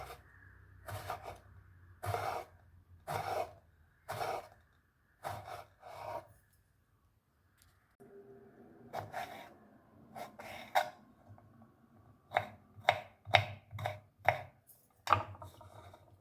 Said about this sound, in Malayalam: അപ്പം നമ്മളിതിങ്ങനെ ചെറുത കഷ്ണങ്ങളായിട്ടാണ് അരിഞ്ഞെടുക്കുന്നത്.